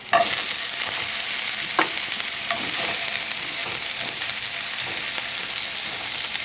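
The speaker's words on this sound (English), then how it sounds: "I'm going to place it on a low flame. I just want to partially cook the shallot" Shallot cooks in a pan over a low flame with a constant close sizzle and hiss, broken by a few faint utensil clicks and stirring scrapes, and no one speaking.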